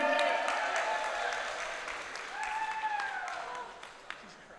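Wedding reception guests applaud the maid of honor, a bride's sister, with sustained clapping, cheers and whoops over a busy room, fading gradually toward the end.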